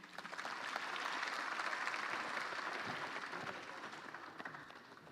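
Sustained crowd applause at the Kenya Kwanza manifesto launch rally at Kasarani, a dense, even wash of clapping from a large audience lasting several seconds without speech.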